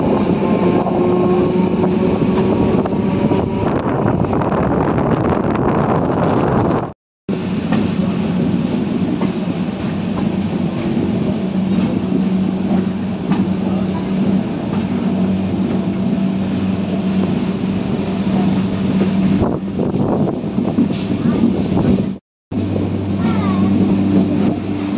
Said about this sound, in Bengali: আমাদের ট্রেন এসে এখন পৌঁছালো বিকনা স্টেশনে।